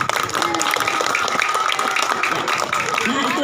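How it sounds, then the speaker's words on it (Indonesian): Children clapping together in a primary school classroom, a busy patter of small hands with scattered voices and chatter mixed in, moderately loud and close throughout. "Tepuk tangan."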